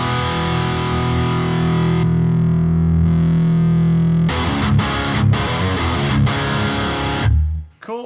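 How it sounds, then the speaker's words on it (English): Electric guitar driven through distortion on a BOSS GT-1000, loud sustained saturated chords that ring on, then a burst of choppy, rhythmic distorted strums before a sudden cutoff, with no talking. "I'll change up this distortion now"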